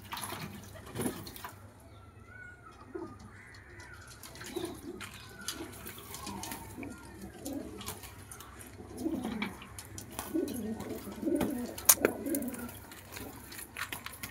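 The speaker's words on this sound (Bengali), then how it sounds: "আমি আবার আমার পায়রা আমাকে চান করতে দিয়েছি। কত সুন্দরভাবে চান করছে দেখুন।" Pet pigeons coo softly and repeatedly while bathing in water, with faint splashing and low murmuring calls throughout, fairly close.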